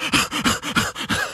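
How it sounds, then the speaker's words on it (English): A person panting, out of breath: about seven quick, rhythmic, voiced breaths in close succession, loud and near, with no other sound around them. "He's panting."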